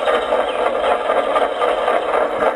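A small model steam engine running a gold stamp mill, a fast, even mechanical chatter and hum that continues without pause at close range.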